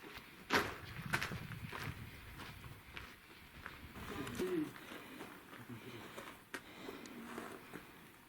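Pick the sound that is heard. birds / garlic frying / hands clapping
birds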